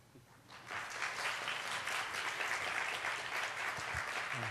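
A church youth-group audience gives welcoming applause as a guest preacher comes forward; a dense, steady round of clapping starts after a brief quiet moment and carries on strongly to the end.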